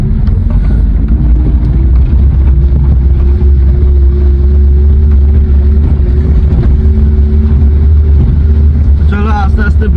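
A car idles and then eases away in first gear on an empty road, a loud, steady low engine drone with someone talking over it throughout.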